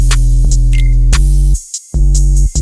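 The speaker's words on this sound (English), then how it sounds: "All in all, drums sound like this." A bouncy, ripsquad-style drum beat loops loudly with booming low bass hits and crisp hi-hat ticks, briefly dropping out for a moment before the pattern returns.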